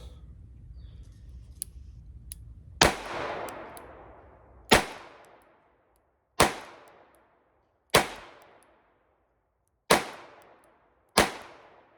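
A Harrington & Richardson Model 732 revolver fired double action lets off six sharp, loud shots spaced about one to two seconds apart, each ringing briefly, with faint mechanical clicks before the first shot.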